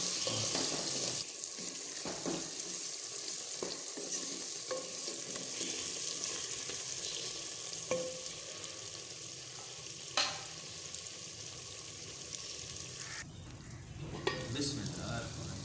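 Green chilies dropped into a frying pan and stirred, a steady close sizzle running throughout with occasional utensil knocks and clinks, no talk.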